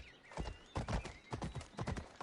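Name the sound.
horse neighing and hooves in Assassin's Creed Odyssey video game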